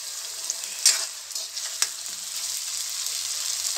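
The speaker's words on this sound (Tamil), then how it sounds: "இதில் இஞ்சி பூண்டு பேஸ்ட்டு போட" Ginger garlic paste frying with onion and tomato in a pan gives a steady close sizzle throughout, with a couple of soft stirring knocks.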